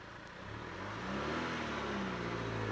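Inside a manual stick-shift car, the engine hums low and then revs gently upward, the pitch rising and holding as gas is fed in, close and moderately loud with no talk.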